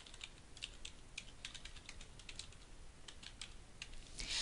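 Login details are entered on a computer keyboard as a quiet, irregular string of light key taps over a soft background hiss.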